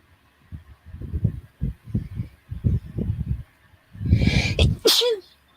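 Soft, low murmuring builds to a single sharp, loud sneeze near the end, close to the listener.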